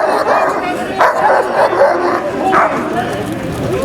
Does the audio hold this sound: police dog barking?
yes